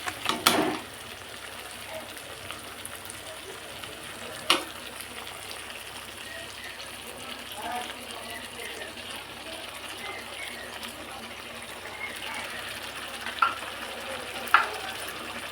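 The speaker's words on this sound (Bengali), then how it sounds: "এবার ভালো করে নাড়াবো।" Spiced masala softened with yogurt is stirred in a frying pan for lemon chicken curry, giving a steady low sizzle with scraping spoon strokes and a few sharp clinks, no voices.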